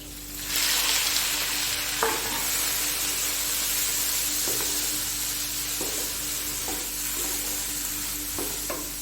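Chicken pieces and green chilies sizzle and fry steadily in a hot pan, a continuous hiss punctuated by several soft stirring scrapes, close and fairly loud with no talking.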